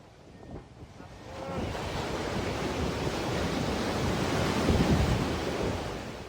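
Big sea waves surge around a tugboat taking on water and sinking in the Philippines, a broad roaring wash with wind buffeting the microphone, building and staying loud throughout.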